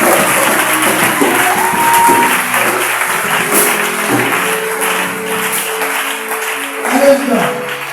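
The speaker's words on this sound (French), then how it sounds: "Est-ce qu'on va acclamer très fort aussi?" Church congregation applauding loudly, a sustained dense wash of clapping and cheering voices mixed with background music throughout.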